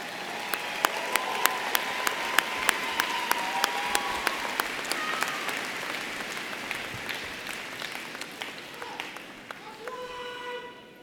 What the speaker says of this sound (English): Please give your student leaders a round of applause.